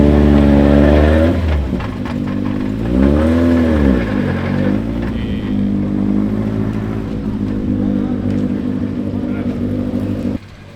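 Subaru rally car at the Saaremaa Rally prologue, its engine revving in rising and falling swoops before settling into a steady loud idle, with voices in the background.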